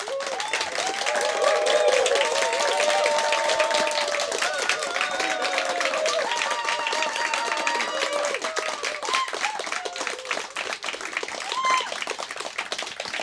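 A poetry slam audience gives sustained, dense applause for a performer, many hands clapping steadily for over ten seconds with scattered cheers and voices mixed in.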